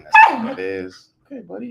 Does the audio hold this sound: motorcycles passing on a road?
no